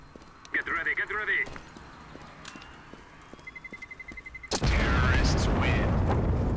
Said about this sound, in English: That bomb sounds, definitely sounds new.